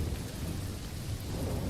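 Heavy rain pours steadily with a deep rumble of thunder beneath it, a dense, continuous wash of sound with no voices.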